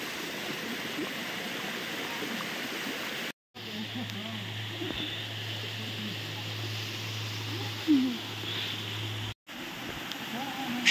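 A hidden waterfall at a forest picnic spot, its flowing water a steady, moderate rush of broadband noise throughout, broken by two short gaps.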